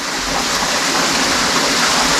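Steady, loud broadband rush of water, continuous and unbroken throughout, like a nearby gushing flow or cascade with no voices.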